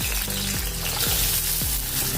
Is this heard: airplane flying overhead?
no